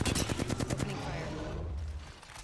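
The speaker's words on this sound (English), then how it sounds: "Opening fire." Rapid automatic gunfire in the Apex Legends video game, a loud close burst of repeated shots that gives way to a fading roar.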